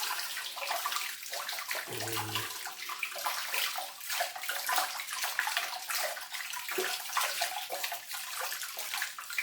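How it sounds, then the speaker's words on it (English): Running tap water pours steadily over a vintage Star Wars Hoth Wampa action figure as it is rinsed clean, a soft, even splashing hiss with a brief low knock near the start. "So give him a rinse off."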